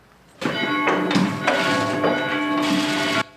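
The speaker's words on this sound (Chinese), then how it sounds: "斯德莱克行到附近的教堂钟楼，时间一到，钟声响起。" A large bell of a Catholic church tower in Tereny, north of Budapest, Hungary, weighing about a thousand kilograms and rung by pulling its rope, swings through several resonant strikes that blend into one continuous, ringing peal before it stops abruptly.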